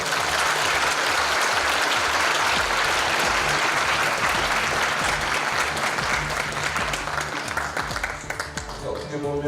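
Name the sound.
audience applauding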